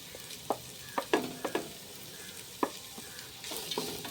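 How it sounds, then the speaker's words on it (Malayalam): Onions and green chillies sauté in a pan for a Palakkad-style chicken curry with ash gourd: a soft, close sizzle with intermittent sharp spatula clacks and scrapes against the pan. "നമുക്ക് നല്ലോണക്കൊന്ന് നല്ലോണക്കൊന്ന് വഴറ്റിയെടുക്കാം"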